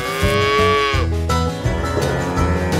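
A cow moos loudly and close in a long, drawn-out call, followed by a cheerful children's song with music playing underneath.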